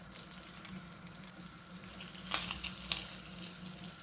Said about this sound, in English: I was hoping for a little more sizzle than that, but it is chicken fat